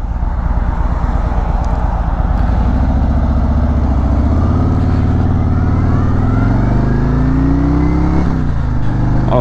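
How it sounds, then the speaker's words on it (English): A Harley-Davidson Road King Special with a 114 engine rumbles loudly up close, its deep throbbing pulse rising in pitch as the bike accelerates and shifts on the road. "I think I like the factory rumble this thing has."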